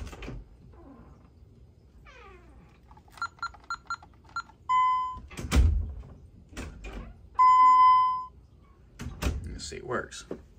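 A door opens against a home alarm system's door contact, and the panel gives two long electronic tones and several short beeps. Soft clicks and handling noises come between the tones, all heard up close indoors.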